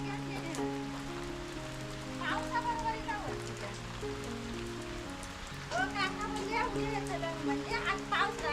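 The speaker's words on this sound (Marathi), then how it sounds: "आता काय पाऊस काय थांबत नाही." Heavy monsoon rain falls steadily in the Konkan countryside, a constant wash of drops on surfaces while children's voices and adults talk and call out over it.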